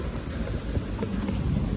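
Light rain and gusty wind outdoors on a cloudy day in Strasbourg, a steady close rumble of wind buffeting the microphone over a soft rain hiss, no voices.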